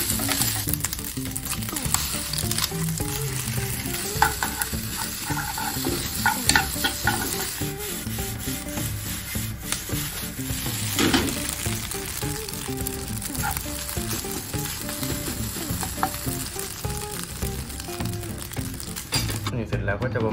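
Egg fried rice sizzles in a pan while being stirred, giving a steady frying hiss with scraping and clinking of the utensil throughout, and voices talk over the cooking.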